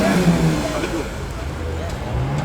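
A Porsche GT3 RS with a naturally aspirated flat-six pulls away, its engine note loud and close at first, then easing as it moves off, with crowd chatter in the background.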